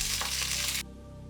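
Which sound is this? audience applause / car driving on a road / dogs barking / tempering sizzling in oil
tempering sizzling in oil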